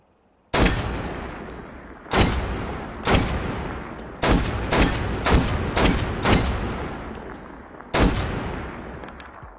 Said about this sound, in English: the sound effects of shooting at long distance with a very powerful cartridge, where you've got sound echoing off the hillside